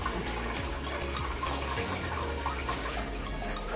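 Water conditioner poured into a home aquarium holding neon tetras, a steady close watery trickle and splash that runs unbroken throughout, with no talking.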